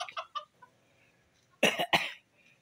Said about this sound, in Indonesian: ini ada ayam yang unik sekali di sini